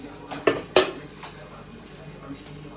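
Spicy Korean noodles are mixed with oil and masala in a pan, two sharp metal utensil clanks against the pan followed by quieter scraping and stirring.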